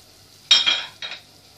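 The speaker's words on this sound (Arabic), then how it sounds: "نقلب برضو كده شويه الكبد والقوانص، تاخد برضو تشويحه" Chicken liver and gizzards stirred in a pan with spices, heard as two short, close scraping bursts of spoon against metal with a faint sizzle, otherwise quiet and without voices.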